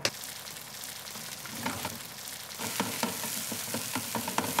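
Sausages sizzle in a frying pan with a steady crackle, close by, and sharper pops and spits break through as the fat heats up.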